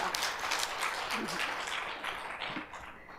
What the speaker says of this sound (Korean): 하느님 앞에 감사와 영광의 박수 드리시기 바랍니다